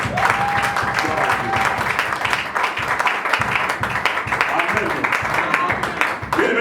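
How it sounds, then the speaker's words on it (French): A church congregation applauds loudly and steadily throughout, a dense wash of clapping that fills the room from start to finish, with voices mingled in. "Acclamons très fort pour la parole de"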